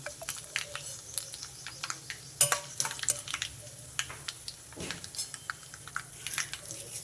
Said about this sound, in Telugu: ఈ తాలింపు అంతా చక్కగా వేగాలి తాలింపు వేగిందండి ఇందులో ఒక మూడు ఎండుమిర్చి తుంపేసుకున్నాం